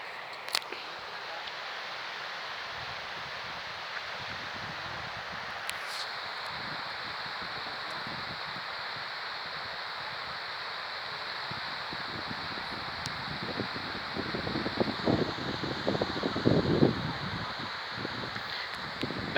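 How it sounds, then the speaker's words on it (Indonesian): Strong wind gusts blow across an open landslide site buried under collapsed mountain material after an earthquake, a constant rushing roar with microphone buffeting that swells louder near the end. "Ini anginnya kencang sekali, tiupan angin di sini."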